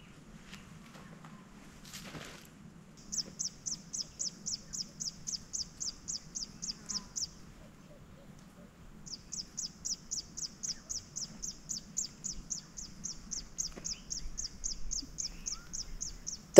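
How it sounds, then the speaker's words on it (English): In woods in rural Zimbabwe, a bird repeats a long series of rapid, high, evenly spaced chirps in two extended bouts, fairly close and clear over a faint low hum and occasional rustling. "The woods close to this space also attract a variety of bird species, which is very nice."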